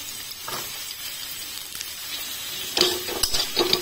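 Chopped onion, garlic and chilli frying in a pan for momo filling, a low faint sizzle that grows louder toward the end with a few clattering stirs and scrapes of a spatula.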